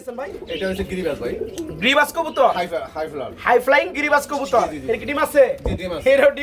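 Pigeons cooing in cages at a wholesale market, repeated low throaty coos overlapping close by, with someone talking over them throughout.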